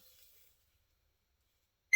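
A phone app gives a single short, sharp beep after near silence while scanning the barcode on a VHS tape.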